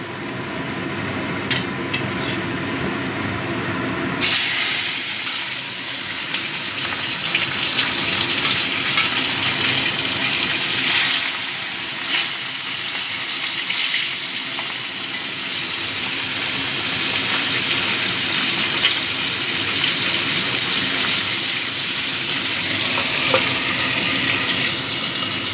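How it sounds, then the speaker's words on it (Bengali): Amudi fish frying in hot oil, a steady loud hiss and crackle of bubbling oil that begins abruptly after a quieter start and continues without a break. "এবার মাছগুলো ভেজে নেব।"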